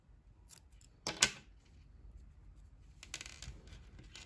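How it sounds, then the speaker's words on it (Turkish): Close scissors snip knitting yarn with one sharp cut in the middle, followed by fainter rustling from handling the knitted piece. "İpliği kesiyorum."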